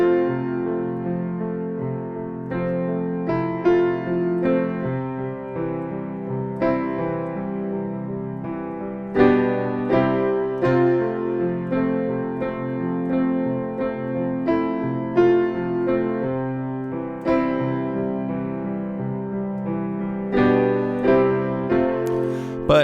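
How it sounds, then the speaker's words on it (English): A solo piano plays a song, with the right hand melody and chords carried over a flowing left hand arpeggio, steady and clear throughout at a moderate tempo. "Once you learn this right hand part, you could just add in that left hand arpeggio. It would sound like this."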